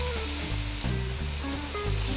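Tomatoes, onion and salt sizzle steadily in a soup pot, a continuous close frying hiss with small bursts of crackle and no talking.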